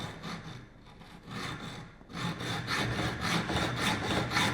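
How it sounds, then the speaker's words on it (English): A metal-blade hacksaw cuts through a roller blind tube with steady, close back-and-forth rasping strokes that continue throughout, growing a little louder and more even partway through, with no voices. "With a hacksaw, a metal blade hacksaw, I'm just going to gently cut that off."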